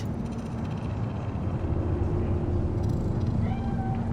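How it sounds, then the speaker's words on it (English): A cat meows in the video game Cyberpunk 2077, a short faint call late in the clip that rises over a steady, loud low hum of game ambience. "The cat?"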